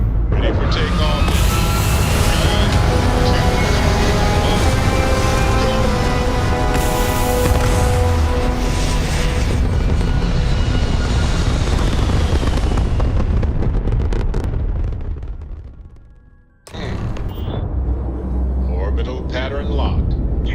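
A spaceship lifts off in Starfield with a loud, dense roar and rumble. The sound stays sustained for about fifteen seconds, then drops away sharply before the in-game noise resumes, and voices talk over it.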